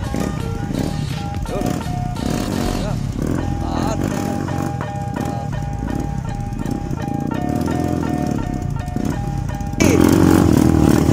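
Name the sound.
two-engine motorized tricycle running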